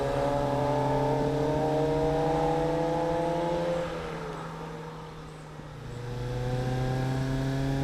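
A Fiat X1/9 car drives a twisty hill road between Ashton and Forest Range on Lobethal Road, its engine humming steadily with rising and falling harmonics as it shifts and accelerates, easing off briefly midway before pulling again.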